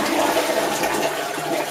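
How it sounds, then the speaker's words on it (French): A Japanese toilet flushes in a clean restroom, a steady broadband rush of water running continuously for the whole moment, close and fairly loud, with no voices over it. "Vous tirez la chasse d'eau."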